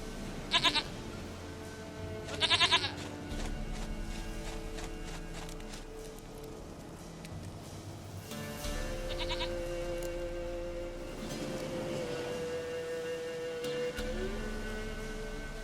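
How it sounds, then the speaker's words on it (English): Goat bleating in the video game The Witcher 3: Wild Hunt, two short bursts of bleats early on, then a fainter one later, over a steady bed of game ambience and music. "Goat of mine, dearest, sweetest goat."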